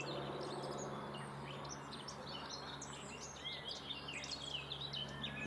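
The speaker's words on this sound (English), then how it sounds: "Now right at this moment, I don't know what that bird is." Unidentified bird singing strongly outside a railway station, a busy stream of varied high chirps and warbles over a steady low hum of background noise, faint and distant.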